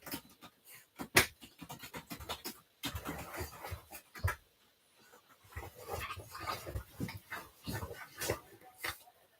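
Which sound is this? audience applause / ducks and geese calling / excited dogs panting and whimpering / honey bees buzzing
excited dogs panting and whimpering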